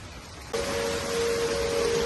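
Heavy rain pours during a tornado warning, a steady, dense hiss close by. A faint sustained tone enters after half a second and continues beneath the downpour.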